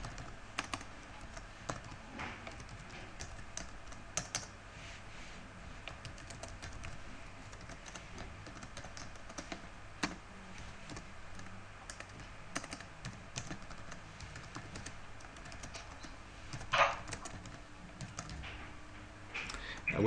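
Keys clatter steadily on a computer keyboard as a C++ program is written in a Linux text editor, quiet and close with irregular clicking throughout and faint background noise.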